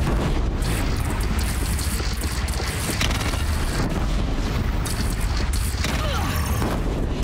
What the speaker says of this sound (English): They only have one cannon. Yeah, that fires 6 bombs at once.